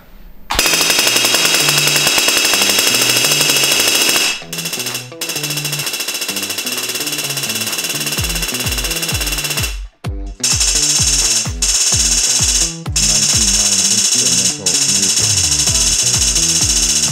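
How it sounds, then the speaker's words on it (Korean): High-voltage electric arcs crackle and buzz loudly from a Pikachu figure at about 1.3 million volts, a dense continuous roar that breaks off briefly several times and restarts in sharp bursts, with no talk over it. "피카츄에서 약 130만 볼트에 해당하는 아크들이 막 나왔는데"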